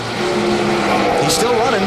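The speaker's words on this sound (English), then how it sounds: "So how much can he sputter around the course on the last lap?" A NASCAR race car in the NASCAR Thunder video game at Watkins Glen, running out of fuel on the last lap, gives a steady droning engine note under a voice.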